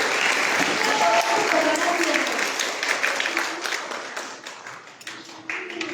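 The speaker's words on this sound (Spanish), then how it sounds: "vamos a dar un fuerte aplauso a nuestro Señor que nos acompaña" A large audience at a church talk on missionary disciples breaks into loud, sustained applause that slowly thins out, with a voice coming through underneath.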